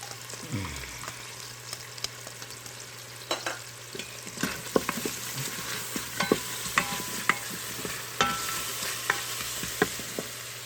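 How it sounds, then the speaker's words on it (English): Garlic sizzles in olive oil and butter inside an Instant Pot with the sauté function just switched off. A steady frying hiss carries on throughout, with repeated light clicks and scrapes from stirring, close and moderately loud. "I'm going to go ahead and turn the saute off and throw in my"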